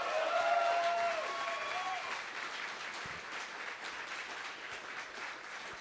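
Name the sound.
audience applause at live jazz performance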